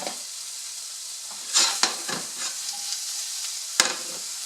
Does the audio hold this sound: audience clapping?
no